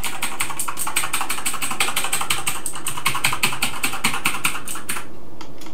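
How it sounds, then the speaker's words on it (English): Keys on a Sinclair ZX Spectrum keyboard being pressed rapidly and repeatedly, a close, loud run of clicky taps in quick regular rhythm, with no talking, ending in a few scattered presses. "I'm pushing every button on the keyboard."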